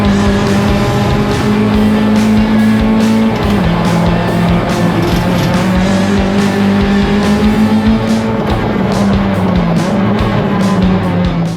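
Race cars at the Excel Nationals grassroots racing event in Australia, engines droning loud and continuous with shifting pitch as cars overtake one another through corners, no talk over the steady mechanical roar.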